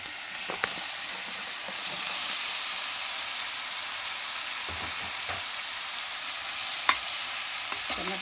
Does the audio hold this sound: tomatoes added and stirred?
yes